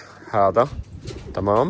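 Pigeons cooing inside a bird house, two soft, throaty coo phrases close by, with someone speaking briefly between them.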